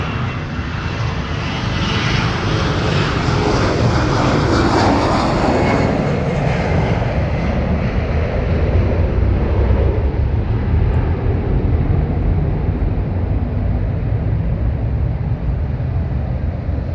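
A passenger plane bound for Dublin takes off at London City Airport, its engines roaring loud and close. The roar holds strong throughout, then slowly fades as the aircraft climbs away.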